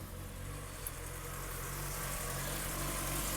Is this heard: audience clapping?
no